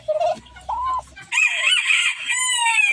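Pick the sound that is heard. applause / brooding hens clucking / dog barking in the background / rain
brooding hens clucking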